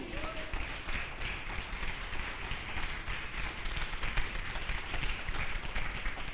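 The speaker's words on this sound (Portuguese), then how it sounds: "Dá palmas para Jesus aí." A church congregation claps for Jesus during a worship service, with dense, steady applause filling the room for several seconds while a voice carries on over it.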